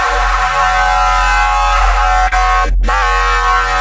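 Wide, washy 14-voice polyphonic synthesizer chord, its voices slightly detuned and panned hard left and right, holds steady and loud with a deep low drone and a brief dropout near the end.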